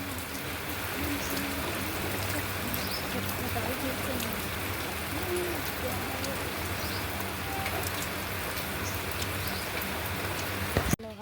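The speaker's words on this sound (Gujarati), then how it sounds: "વરસાદ એકદમ ફૂલ આવી ગયો છે" Heavy rain pouring down in a village, a dense, steady downpour of drops striking surfaces, continuous and enveloping throughout.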